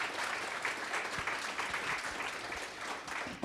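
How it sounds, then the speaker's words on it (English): An audience claps at a county candidate forum, steady dense applause close by throughout, with no talk over it. "they deserve a round of applause."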